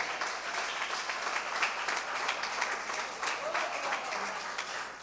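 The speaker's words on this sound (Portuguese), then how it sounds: "você pode aplaudir Jesus pela sua vida." A church congregation applauds during a service, steady dense clapping from a large crowd filling the room, with a voice faintly audible beneath.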